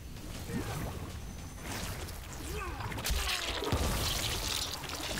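Rushing water attack effect from Rain in Mortal Kombat 11, a hissing, pouring surge of water with whooshes that grows louder and fuller partway through.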